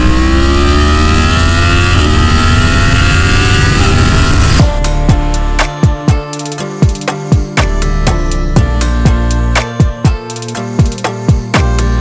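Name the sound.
Yamaha MT-10 1000cc motorcycle riding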